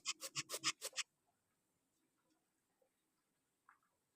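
A knife chops banana blossom in a quick burst of about six close, crisp cuts. A faint tap and scrape follow in near silence.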